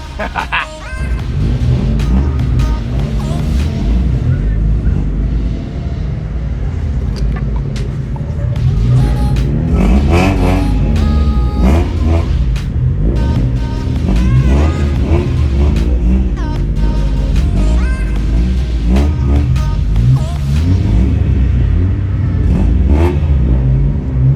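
Loud engines rumble and rev at a 7-Eleven car meet, including a Toyota Supra, amid a continuous crowded roar with honk-like blasts and people talking nearby.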